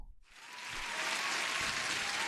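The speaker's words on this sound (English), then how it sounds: "Let me give you a proper applause" Applause sound effect that swells in after a short silent gap, a dense wash of many hands clapping that builds to a loud, sustained roar and holds steady to the end.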